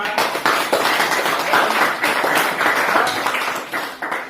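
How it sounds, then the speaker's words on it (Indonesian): Dense, steady applause fills a classroom after a student group's presentation, many hands clapping close and loud with slight swells before tapering at the end. "Oke, tepuk untuk kelompok 5."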